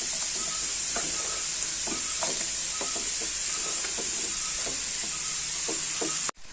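Sliced okra stir-frying in a pan for a home-style Kerala thoran, giving a steady bright sizzle broken by repeated scraping stirs of a spoon, close and fairly loud, ending with an abrupt clatter and then a cut to silence.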